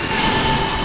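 A subway train in a Roblox game rolls past in a brief, loud burst of rail rumble with a steady mechanical whine on top.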